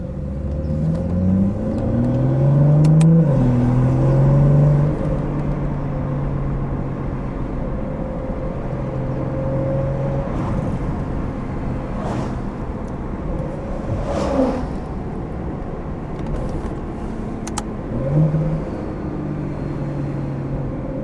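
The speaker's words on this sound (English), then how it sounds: "With no burbles now, just pure turbos." Stage 2 tuned BMW 440i turbo engine accelerating on backroads without exhaust burbles, a loud, steady engine drone that rises in pitch early on, then holds a smooth whirring pull with faint whooshes.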